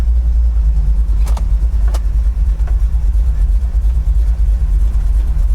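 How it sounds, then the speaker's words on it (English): A 1972 Chevy Nova pulls hard in second gear, its engine a loud, deep, sustained rumble filling the cabin without a break, with a couple of brief higher clicks over the roar. "We'll try to get a second gear pull here."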